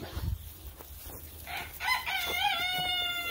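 A rooster crows loudly in a long, wavering call after a stretch of soft clucking and rustling from nearby chickens.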